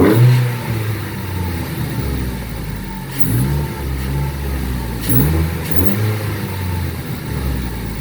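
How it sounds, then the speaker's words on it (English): A 2012 Mk3 Ford Focus accelerates hard, its intake and exhaust rising into a throaty roar through several surges and gear changes, heard from inside the car with no talking. "See if we can get some intake noises going on in here"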